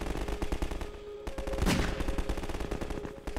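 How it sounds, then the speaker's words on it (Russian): Revolver fire in the video game Half-Life 2, a single sharp shot standing out from dense, continuous game noise and clatter, with bursts of other gunfire throughout. "Ну вот один выстрел с револьвера и все."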